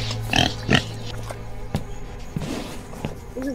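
A pig in a Roblox horror video game grunts in a few loud, close, rough bursts near the start, followed by quieter scattered thumps and game noise.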